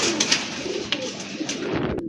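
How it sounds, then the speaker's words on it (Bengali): Pigeons, including a large, very active red pair, coo softly and steadily with low murmuring calls, joined by a few brief sharper sounds. "মাশাআল্লাহ আরেক জোড়া কবুতর,"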